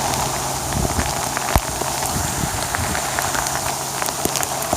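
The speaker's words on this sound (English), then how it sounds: "That's hail, not rain." Hail pelting down outdoors in Lincoln City, Oregon, a dense steady patter of small hard impacts with a few sharper hits, sounding close and continuous like heavy rain.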